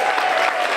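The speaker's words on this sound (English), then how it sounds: "Give them all a big round of applause" Audience applause for the finalists of the Bring Your Limericks to Limerick contest at the Limerick Summer Festival of Literature 2014, a dense, steady burst of clapping from a crowd lasting under a second.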